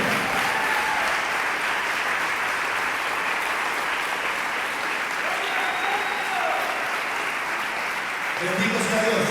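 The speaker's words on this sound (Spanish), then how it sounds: "Si le va a aplaudir, aplaudirle fuerte." A church congregation applauds loudly and steadily throughout, a dense, sustained wash of clapping from many hands that fills the space with little variation in strength.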